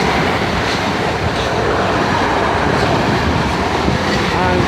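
A South West Trains electric train passes at Eastleigh station, a loud, steady broadband rumble and rush of wheels on rail filling the whole stretch without a break.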